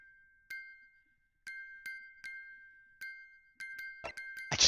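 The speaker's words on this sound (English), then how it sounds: "The defenses believe that the sound emanating from this music box is..." A music box in The Great Ace Attorney Chronicles plays a sparse, bell-like melody of about a dozen clear, ringing plucked notes over a sustained tone, spaced at a slow irregular rhythm, ending in a brief burst of brighter noise.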